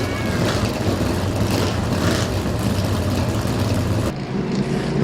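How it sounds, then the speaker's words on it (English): Race car engines firing up and rumbling at a speedway, a loud continuous roar of several engines idling and revving together, close and sustained. "start your engines."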